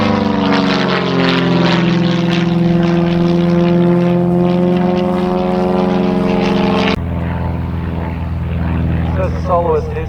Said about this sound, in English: As the soloist heads back towards the north to join up with the other aircraft.